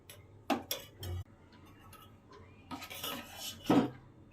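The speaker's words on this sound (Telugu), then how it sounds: "గోధుమ పిండిలో కొద్దిగా ఉప్పు వేసుకొని పిండిని ఇలా కలుపుకొని రెడీ చేసి పెట్టుకోవాలి" Wheat flour dosa batter being stirred with salt in a bowl, with spoon clinks and scrapes against the dish: a few sharp taps early, then a rougher burst of mixing and a louder clink near the end, close and without speech.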